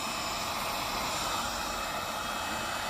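A Team Associated MGT nitro RC truck engine idles steadily, a loud continuous buzzing drone with broad hiss that holds even throughout, no voices over it.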